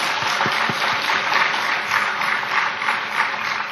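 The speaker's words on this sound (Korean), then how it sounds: "그동안 교사 수고 많이 했으니까 한 번 더 박수 쳐주세요" A congregation at a Sunday afternoon church service claps for the teachers, a dense, continuous patter of many hands that stays steady and fairly loud throughout, with no voices.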